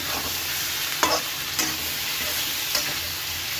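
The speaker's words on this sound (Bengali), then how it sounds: "একটু নাড়াচাড়া করে নিলাম" Onions fry with a steady sizzling hiss in a pan, broken by three or four soft scraping strokes of a spoon as they are stirred.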